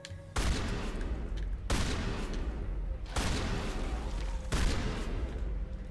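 Four booming shotgun blasts from the video game Mass Effect fire about every 1.4 seconds, each a sharp broadband crack with a long rumbling tail. The shots are loud and close over dense game background noise, with no talking.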